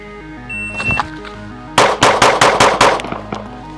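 Rapid string of about six pistol shots from a Shadow Systems CR920, loud and evenly spaced at a range, cracking out in quick succession over a low background hum.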